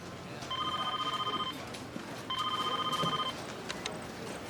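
Telephone tones, likely a phone being dialed: two bursts of steady beeping tones about a second long each, separated by a short pause, fairly clear over a quiet room background.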